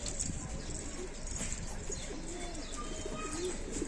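Pigeons coo softly and repeatedly nearby, with low, rounded calls mixed with a few chirps from other birds over a constant background hum.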